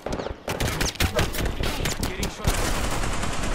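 Rapid video game gunfire in loud bursts, close and dense, with a player's voice talking briefly over the shots.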